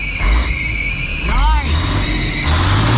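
An old semi truck's diesel engine revs as the throttle is pressed, rumbling loud and close with a rising whine and squeal, voices talking over it.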